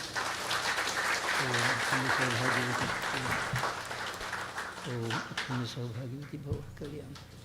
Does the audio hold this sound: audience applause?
yes